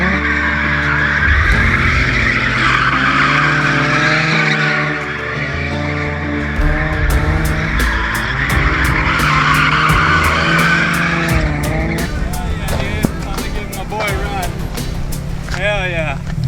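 A 2008 Nissan 350Z fitted with an angle kit spins out, tires squealing loudly and continuously over a roaring engine, with someone talking over it partway through.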